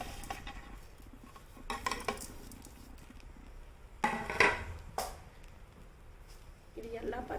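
Green gram, horse gram and cumin are tipped into a pan and stirred while dry-roasting for adai dosa batter. Scattered clinks and metallic scrapes come in short bursts, with a sharper clatter near the middle over quiet room noise.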